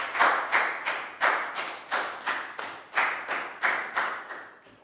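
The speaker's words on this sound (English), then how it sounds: "Big round of applause for Pat" A classroom of young students claps in a slow, even unison rhythm, roughly a dozen loud, close, synchronized claps for a classmate.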